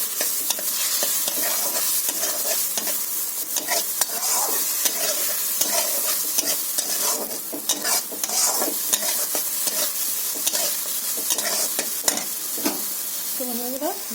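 Tomato sizzles in hot oil with cumin and chili in a pan for a fish dish, with a steady frying hiss broken by repeated scrapes and clinks of a spoon stirring, close and continuous.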